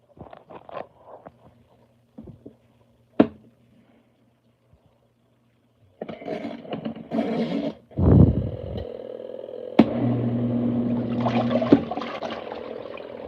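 An LG ThinQ MEGA Ultimate washer on its hand wash cycle sloshes water in short, separate bursts of agitation, each followed by quiet pauses, with a few clicks and a brief rushing surge of water.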